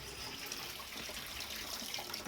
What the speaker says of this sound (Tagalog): patay ko lang yung aking gripo.